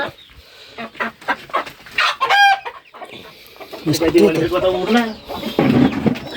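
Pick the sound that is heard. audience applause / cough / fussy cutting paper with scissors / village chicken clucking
village chicken clucking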